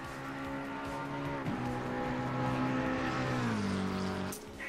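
McLaren 720S Evo race car engine in Assetto Corsa Competizione, a steady tonal engine drone with shifting harmonics, holding pitch then dropping slightly, fairly quiet and continuous with no talk.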